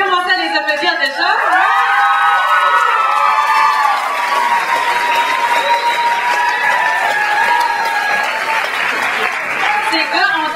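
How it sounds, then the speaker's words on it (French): A large crowd at a group performance semi-final breaks into loud sustained applause with cheers and whoops, a few high shouts riding over the clapping throughout. "Vous pouvez commencer à les applaudir déjà"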